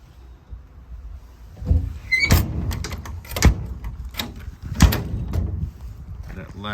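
Compartment door latch on the body of a 2011 Ford F450 tire service truck, clicking and clunking several times in close, irregular knocks, with a voice talking alongside.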